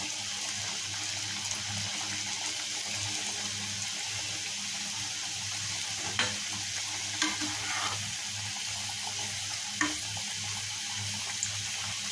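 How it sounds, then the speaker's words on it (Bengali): Steady sizzling of semolina-stuffed pitha frying in hot oil, with occasional faint clinks and stirring sounds over a constant hiss. "এখন পিঠাগুলো আমি দিয়ে ভেজে নেব।"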